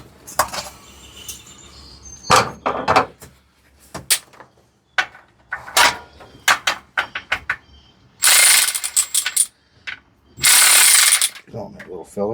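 10mm ratchet wrench working bolts on a Mitsubishi Minicab U62T/U42T mini truck engine during a valve seal job, close rapid ratcheting clicks in repeated bursts with pauses and a few metallic clanks.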